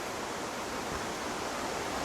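A shallow creek, two to three feet deep, flowing around boulders in a gorge, giving a steady, even rush of water with no voices.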